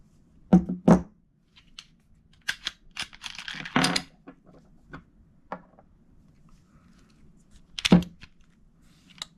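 Glock pistol being cleared by hand: a handful of sharp metallic clicks and slide clacks spaced irregularly against a quiet background, with one louder clack near the end.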